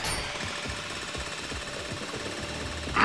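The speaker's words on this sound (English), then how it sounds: "We got a drill." A rapid mechanical drill chatters continuously in a fast, rattling rhythm, steady and close, with a brief louder burst at the end, during a jewelry store heist in Payday 3.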